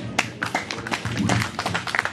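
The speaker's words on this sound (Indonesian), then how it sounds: "Ya, aplaus." Clapping from an audience at a Christmas celebration gathering in Kendari, a dense patter of hands lasting a couple of seconds with some voices mixed in.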